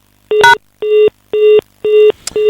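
Repeated telephone dialing tones while a radio call-in show tries to reconnect a dropped caller, five steady beeping bursts in an even rhythm, loud and clear with no talk over them.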